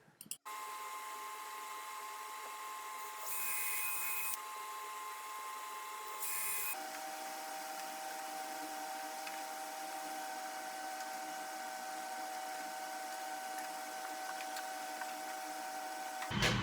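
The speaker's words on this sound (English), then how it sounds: "I'll use a brad point drill bit and drill through the exact center of that" A power drill with a brad point bit bores through wood for cabinet work, a steady high motor whine after a brief start, with two short louder bursts early on, close and continuous.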